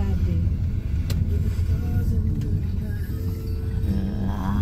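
Motorized tricycle passing on a road near a bridge and river between Dagatan, Dolores and San Pablo, a steady close engine rumble that holds loud for the whole stretch, with faint voices underneath.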